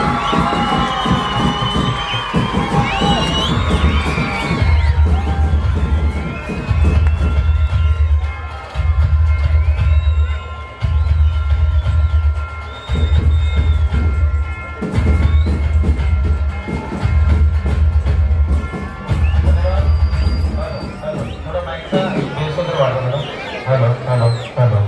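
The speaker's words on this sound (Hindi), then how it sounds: "जोरदार तालियां उसामा के लिए।" An audience at a turf ground and school building inauguration in Kiradpura claps and cheers loudly, with rhythmic bursts of applause and crowd noise under an amplified voice speaking throughout.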